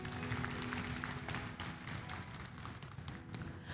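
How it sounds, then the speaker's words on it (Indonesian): Church congregation applauding for God during a sermon, a dense continuous patter of clapping heard from a distance, fairly faint and fading slightly toward the end. "berikan tepuk tangan dong buat Tuhan"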